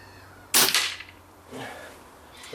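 Single sharp report from an air rifle firing an H&N FTT pellet outdoors, followed by a fainter thud or ring about a second later, with no talking.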